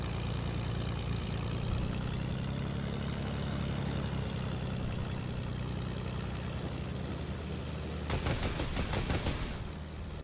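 A propeller airplane engine in Fortnite Creative mode drones steadily and loudly throughout, and near the end a quick burst of rapid rattling pulses cuts through the engine hum.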